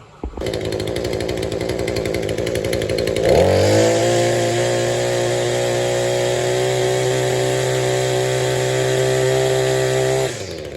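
Shindaiwa T262 string trimmer two-stroke engine after a new ignition coil, idling with a rapid buzzy putter, then revving up to a loud sustained high-pitched scream before cutting off, close and without talk.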